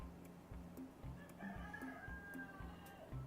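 A rooster crows loudly nearby, its long call rising and falling over a steady rhythmic background beat.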